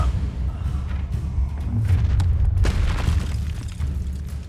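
A fire spell blast in the Hogwarts Legacy video game, a low rumbling boom that swells and lingers briefly with crackling texture, fairly loud and close.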